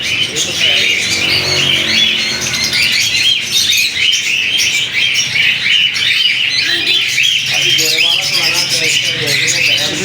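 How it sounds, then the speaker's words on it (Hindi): Dense squawking and chirping from many birds, including parrots, at a bird market in Bahawalpur, loud and continuous, with some murmured voices mixed into the busy din. "इधर तो सारी चिड़ियाँ हैं"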